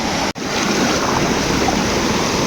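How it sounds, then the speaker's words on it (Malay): Swift, high river water rushing during the rainy season, a steady broadband roar close by with one brief dropout near the start and no talking. "musim hujan jadi keadaan air sungai pun agak pasang dan deras"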